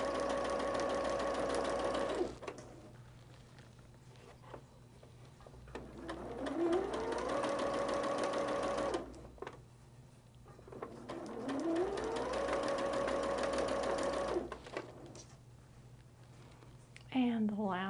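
A sewing machine stitches quilt block pieces for a Sisters' Choice block in three steady whirring runs of a few seconds each, separated by quiet pauses, with a low steady hum underneath throughout.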